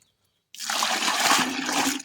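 Water from washing comfrey leaves pours out of a wash tub, a sudden loud gushing splash after a moment of silence that keeps rushing steadily to the end.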